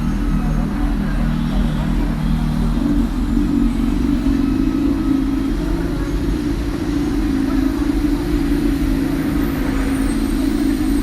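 Revolt RV400 electric motorcycle ridden along a service road, a steady, loud drone of motor and road noise with heavy wind rumble running unbroken throughout, traffic ambience mixed in.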